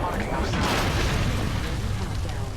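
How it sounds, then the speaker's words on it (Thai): Dense, loud booming bursts of gunfire from Apex Legends Mobile fill the clip, a continuous barrage of blasts and pops with voices mixed in underneath. "เพื่อนมีเสียงปืน"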